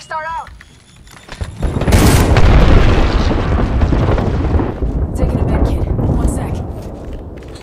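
An arc star grenade in Apex Legends goes off after a brief electronic chirp: one sudden loud blast, followed by several seconds of heavy rumbling and crackling that slowly fades.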